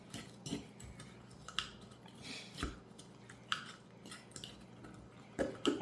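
Oreo cupcake batter with milk being mashed and stirred by hand without a mixer, faint close squelches and irregular clicks of a utensil against the bowl, quiet and uneven, no talking.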